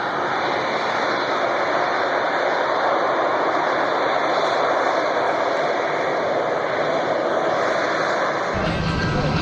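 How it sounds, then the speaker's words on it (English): A Harrier jet hovers at the Rockford Air Show, its engine a loud, continuous broadband roar that cuts off abruptly near the end. "Ever seen a powerful Harrier jet perform something that looks like a moonwalk at the Rockford Air Show?"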